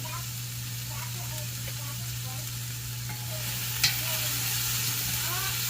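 Vegetables sautéing in a pan for split pea soup: an even close sizzle with occasional spoon stirs, over a steady low hum, with a brief sharp clink near the end and faint talk in the background.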